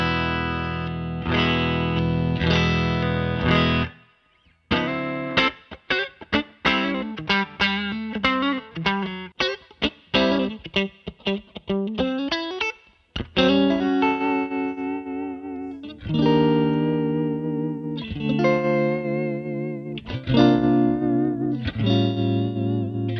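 Electric guitar played clean, straight into a Victory V4 Duchess amp with nothing else in the chain: ringing chords and quick single notes with pauses between phrases, loud and close, no talking.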